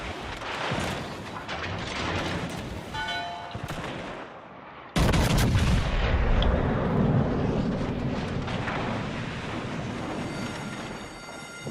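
Naval guns firing high-explosive shells in World of Warships Legends, a dense stretch of heavy booming salvos with continuous rumbling battle noise that grows louder and fuller halfway through, with no talking.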